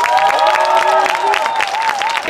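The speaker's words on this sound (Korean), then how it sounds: "동의하시면 박수 한번 쳐주세요." Dense applause and some cheering from a crowd at a political rally fill the space steadily, loud and close, with scattered voices mixed in.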